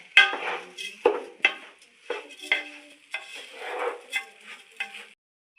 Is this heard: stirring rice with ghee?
yes